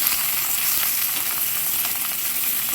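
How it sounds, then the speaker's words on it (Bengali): Boiled fish and roe fry in oil with a steady, close sizzling hiss that holds at an even level throughout, with no talking over it. "মাছ আর বীজ যে সেদ্ধ করে রেখেছিলাম, একটু ঠান্ডা করে নেওয়ার পরে তেলে হালকা করে একটু লাল লাল করে ভেজে নেব।"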